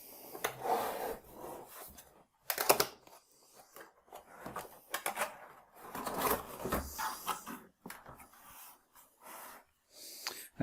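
Brown cardboard packaging for a Ubiquiti UniFi Switch 16 150W network switch being opened up close, with scraping, rubbing and rustling bursts, a few sharp tearing or flap sounds, and quiet pauses in between, no talking.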